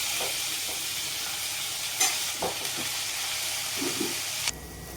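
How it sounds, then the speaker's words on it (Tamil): Long strips of large brinjal sautéing in hot oil in a home kitchen pan for brinjal rice, a steady close sizzle with a few brief stirring scrapes and clatters, ending abruptly near the close. "ஒரு பெரிய முள் கத்திரிக்காய் எடுத்து கழுவிட்டு நீட்டை வாக்கில் கட் பண்ணி வச்சுருக்கேன் அதை போட்டு எண்ணெயில் நல்லா வணக்கிக்கலாம்"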